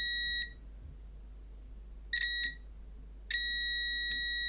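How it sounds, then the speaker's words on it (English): A device under repair gives sharp, high electronic beeps in three separate bursts with quiet gaps between them, over a steady low hum, with no talking. "This is a beep."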